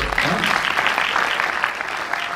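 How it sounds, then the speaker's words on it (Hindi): A crowd claps steadily throughout, dense continuous applause from many hands filling the room at a fairly loud level. "ताली तो बजाओ इसको।"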